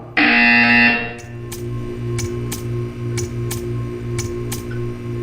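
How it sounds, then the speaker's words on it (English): A buzzer signal in the video game Portal 2 blares loud and steady for about a second, then gives way to a run of regular, evenly spaced ticking clicks. "You will hear a buzzer. When you hear the buzzer, stare at the art."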